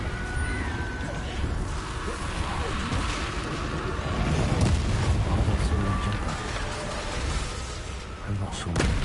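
Confringo blasting spell explosions in Hogwarts Legacy combat, repeated loud booming blasts and crashing impacts amid busy battle noise, with a person talking over the action throughout.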